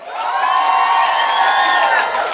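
Wedding guests at a Kazakh betashar ceremony cheer and clap in a loud, steady burst of crowd noise, with voices whooping throughout.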